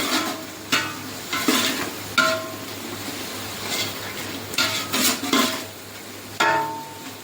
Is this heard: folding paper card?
no